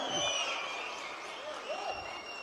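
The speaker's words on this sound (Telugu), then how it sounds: "ఒక్కసారి అందరూ చప్పట్లు కొట్టి కృతజ్ఞతలు తెలియజేయమని కోరుతా ఉన్నా" A crowd at a public meeting of auto drivers claps together in a dense, sustained patter across the whole stretch, fairly distant and moderately loud, with faint speech underneath.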